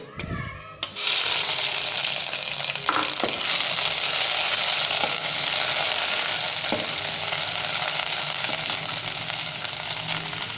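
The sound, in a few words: ginger garlic paste frying in hot ghee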